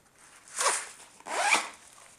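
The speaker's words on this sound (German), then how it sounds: "Des Weiteren hat diese Gamasche hier unten einen Reißverschluss," Zipper on a snow gaiter being pulled shut in two close, rasping strokes, each about half a second long, with a brief pause between them.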